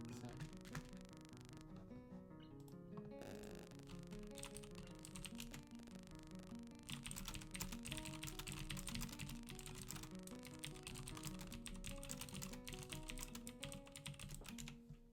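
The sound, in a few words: typing on a mechanical computer keyboard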